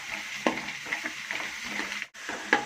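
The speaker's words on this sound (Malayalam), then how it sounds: "ഇതാ ഒരു ചെറിയ മൂപ്പായിട്ടുണ്ട് വെളുത്തുള്ളി ഇഞ്ചി ഒരു ചെറിയ മൂപ്പായിട്ടുണ്ട്" Garlic and ginger frying in a pan for a carrot and mango pickle, a steady close crackling sizzle with a few louder stirring scrapes and a brief pause near the end.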